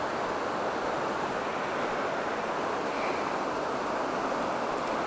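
Rushing water from Bear Creek, swollen and flowing fast after rain, makes a steady broadband roar throughout, loud and unbroken with no voices.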